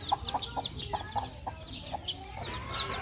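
Chickens cluck in quick, repeated bursts close by, several short calls overlapping in an irregular rhythm over faint background noise.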